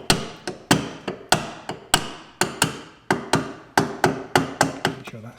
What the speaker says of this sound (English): give that a gentle tap with the rubber mallet